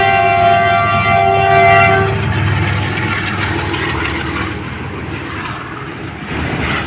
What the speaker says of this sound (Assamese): ইতিমধ্যে ট্ৰেইন আহি গ'ল।